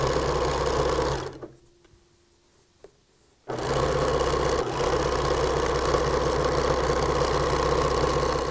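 A sewing machine stitches T-shirt quilt blocks together, a close, steady mechanical hum that stops for about two seconds of near silence with a click, then resumes and runs on evenly.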